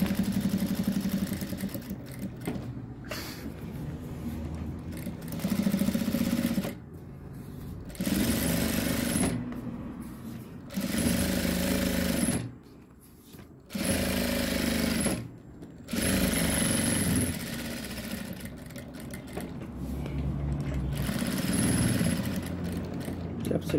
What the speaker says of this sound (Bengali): নিয়ে এবার এটারে চাপ সেলাই মারবেন।